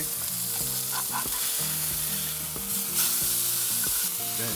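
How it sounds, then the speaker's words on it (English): Steady, close-up sizzling of a wagyu burger patty frying on a hot grill, a continuous crackling hiss with occasional pops. "this meat's ready for a flip now"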